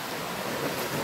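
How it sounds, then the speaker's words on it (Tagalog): Steady broadband rush of water flowing in a countryside river, continuous and fairly close, with no voices. "agos ng tubig."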